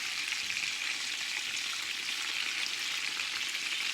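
Frikkadels, Cape Malay meatballs, sizzle steadily in a frying pan near the end of cooking, giving a continuous close, even hiss with no voices.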